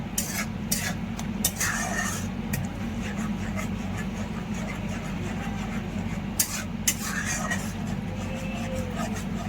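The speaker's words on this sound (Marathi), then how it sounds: "त्यामध्ये मसाले घालून घेऊया। मसाले 1-2 मिनिटं परतून घेऊया।" Spices fry in oil on a steady, continuous sizzle throughout, with occasional clinks and scrapes of a spoon stirring against the pan.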